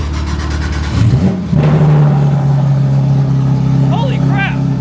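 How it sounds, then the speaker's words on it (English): A Porsche GT3 fitted with a new aftermarket exhaust cold-starts: a crank and sharp loud bark, then a steady, booming high idle that holds close and loud, with brief voices chirping near the end. "GT3, which has a new exhaust now. So, cold-ish start."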